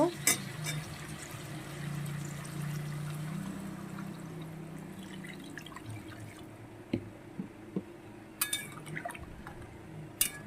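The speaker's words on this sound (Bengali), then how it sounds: "এই পর্যায়ে আমি পরিমাণ মতন জল দেব" Water poured into a pan of fish, cauliflower and potato curry makes a steady low pouring rush for several seconds, then gives way to scattered drips and small clicks.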